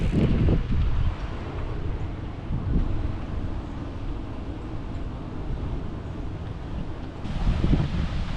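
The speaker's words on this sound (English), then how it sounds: "Look at that wind." Strong wind gusts buffet the microphone beside Wisconsin's largest lake while biking, a steady low roar with louder bursts near the start and end, no talk.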